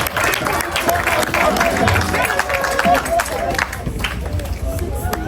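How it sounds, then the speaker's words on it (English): Guests applauding at a lively wedding reception, a sustained crowd of clapping mixed with chatter and cheers, loud and close, with voices talking over it. "Ladies and gentlemen, this is a good round of applause."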